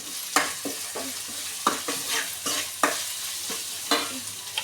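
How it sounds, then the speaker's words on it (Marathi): Ground masala paste for a tender jackfruit curry sizzles in a hot pan as a spoon stirs it, with sharp scraping strokes every half second or so over a steady frying hiss, close and fairly loud. "मी वाटण जेव्हा घातले ते परतून घेते व्यवस्थित गॅस मोठा करते"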